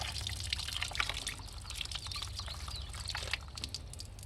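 Engine oil streams out of a motor into an oil pan with a steady pouring and trickling noise, splashing a little, heard close and alone.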